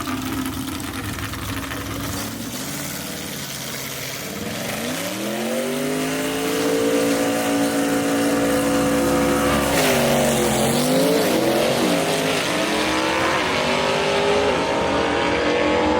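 Loud gasser drag race cars, including a 1962 Mercury Comet, roar off the line at a drag strip, engines rising through gears in a sustained wail that dips and climbs again, with no talk.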